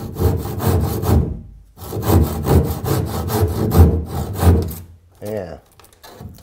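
A saw plunge-cutting the wooden transom of a V-bottom skiff, rasping in quick back-and-forth strokes close by: one run of strokes, a brief pause, a longer run, then a few scraping handling sounds.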